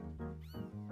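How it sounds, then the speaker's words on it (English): A cat's meow from a song playing in the background: one drawn-out, wavering, tonal yowl that bends in pitch, moderately loud and alone, with no one talking over it. "It's the one with the cat meowing in the background."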